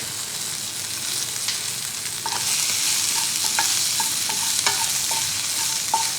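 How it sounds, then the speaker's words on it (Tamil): Onions sauté in a pan with a continuous close sizzle, punctuated by a series of sharp spatula clicks and taps against the pan as they are stirred. "லைட்டாக வெங்காயம் வதங்கட்டும்"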